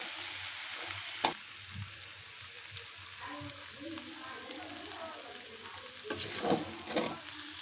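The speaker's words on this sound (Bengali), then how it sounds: "এটা নেড়ে চেড়ে আমি আরও 10 মিনিটের মতো রান্না করব" Beef tripe frying in very little oil sizzles softly while a spatula stirs and scrapes the pan, with clacks and crackles coming in bursts and some quiet background voices.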